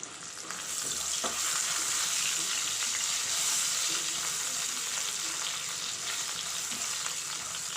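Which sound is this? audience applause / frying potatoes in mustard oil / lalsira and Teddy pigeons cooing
frying potatoes in mustard oil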